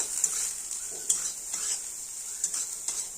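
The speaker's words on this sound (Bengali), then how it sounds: "ভালো করে একটু লাল লাল করে ভেজে নেব" Soybean chunks seasoned with turmeric and salt fry in a pan for a soybean-and-potato curry, a steady soft sizzle broken by light spoon scrapes and taps, close and alone.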